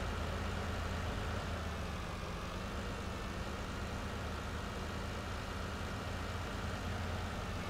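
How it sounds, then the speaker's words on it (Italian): A tractor engine drones in a steady, low, even rumble from some distance. It stays fairly quiet and unchanging throughout, with no voices. "E veniamo su con il nostro trattore"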